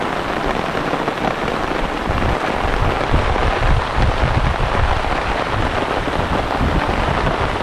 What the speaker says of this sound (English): If it didn't seem like there was much rain before, now it's really coming down